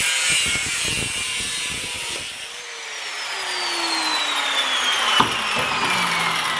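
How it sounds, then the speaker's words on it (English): A 4-inch angle grinder cuts into an 18 oz Yeti steel bottle, giving a loud, continuous abrasive whine with a pitch that slides steadily as the cut goes on, plus a sharp clank near the end. "I'm going to try to cut through it with a 4-inch grinder next"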